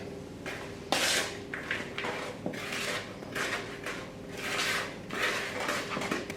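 Gluten free chocolate cookie dough for a skillet cookie being stirred in a bowl, giving continuous close scraping and rubbing strokes with a few sharper knocks of the utensil against the bowl, alone without talk.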